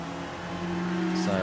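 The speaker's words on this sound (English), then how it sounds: "So on board the Ferrari, Liam Lawson, currently 15th" A Ferrari DTM race car engine on track at the Hockenheimring during free practice, a steady high droning tone that shifts pitch near the end, with a commentator talking over it.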